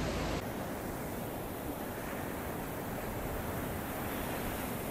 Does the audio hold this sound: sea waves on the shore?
yes